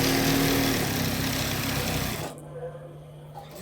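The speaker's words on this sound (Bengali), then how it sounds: "এখন এখানে সেলাই হয়ে গেছে, এখন ডাবল সেলাই দিচ্ছি।" A sewing machine runs steadily while double stitching a seam on a salwar at home, a dense mechanical whir lasting about two seconds before stopping and leaving quiet room tone.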